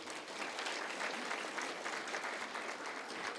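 At a Seoul party members' debate forum, the crowd claps continuously, a sustained wash of applause heard at a moderate distance and somewhat faint.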